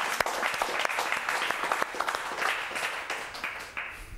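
Studio audience at a TeleMantova sports show applauding a guest, dense steady clapping with sharp individual claps throughout, fairly close and loud, no voices.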